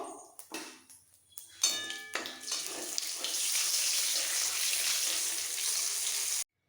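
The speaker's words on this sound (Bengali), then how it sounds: "ফোড়নটাকে আগে একটু ভেজে নেবো" Whole cumin seeds and two small bay leaves dropped into hot oil, first a few sharp clinks and pops, then a loud, steady sizzle that fills several seconds before cutting off abruptly.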